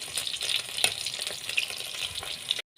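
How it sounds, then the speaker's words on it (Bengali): Tilapia fish frying in oil in a pan, a close, continuous crackling sizzle with sharp pops and spatters, ending in a sudden cut to silence. "ঝাঁঝরি দিয়ে আমি ভাজা মাছগুলো খুব ভালোভাবে তেল ঝরিয়ে তুলে নিচ্ছি।"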